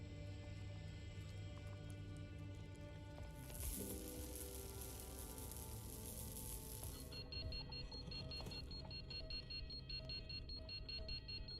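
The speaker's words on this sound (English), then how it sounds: "there's that beeping sound that's going off that's very sort of space, it's kind of instilling like an alarm of some sort" A sci-fi lab exhibit in the game Crayta emits a faint, repeating electronic alarm-like beeping with layered synthetic tones and a shifting hissy texture, steady and low in level throughout.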